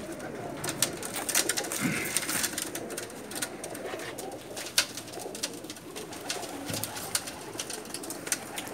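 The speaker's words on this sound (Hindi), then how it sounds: "ये कबूतर बहुत ही पसंद आएंगे" Pigeons of a home-bred stock coo softly and repeatedly in a loft, with low rolling coos spaced out over a steady background hum and occasional small knocks.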